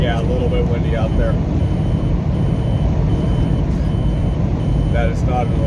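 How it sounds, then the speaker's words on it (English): A truck's PrePass transponder beeps inside the cab of a semi hauling bottled water, giving a short burst of electronic tones early and another near the end over loud, constant road and engine rumble. "That is my pre-pass letting me know I can pass the port entry"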